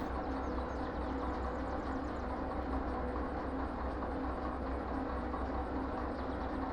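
A locomotive idles in the Derail Valley train-driving game, giving a steady, broadband rumble with a low engine drone that holds constant throughout, with no talk over it.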